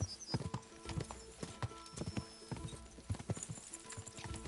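A horse gallops at speed in the video game Kingdom Come: Deliverance II, with rapid rhythmic hoofbeats and clip-clop steady and close throughout and no talk over them.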